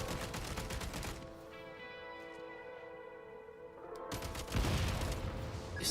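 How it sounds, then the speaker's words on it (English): Video game gunfire hitting explosives, dense bursts of shots at the start, then a lull with lingering tonal ring, and another loud burst near the end. "Shoot the explosives to detonate them and clear the path."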